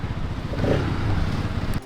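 A Bajaj Pulsar RS200 motorcycle with a 200 cc single-cylinder four-valve engine, revving steadily at close range with a throaty, pulsing note that rises slightly midway before cutting off near the end.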